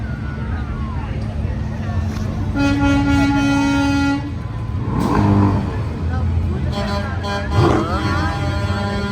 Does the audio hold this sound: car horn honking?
yes